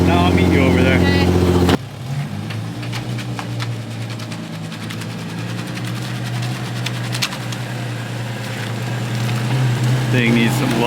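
A car engine with an exhaust leak at the headers idles close by, making a low, uneven rumbling putter. A voice is heard briefly at the start, then the engine runs on alone and grows slightly louder toward the end.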